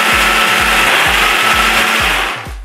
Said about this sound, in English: that was about a minute and a half of blending